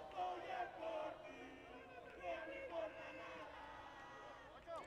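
A small crowd at a ball game cheering and making noise, faint and distant, a lively babble of shouts and voices with commentary-like speech over it.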